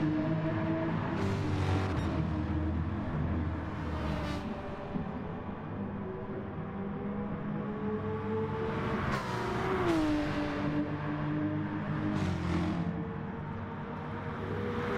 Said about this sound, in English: You can hear his tires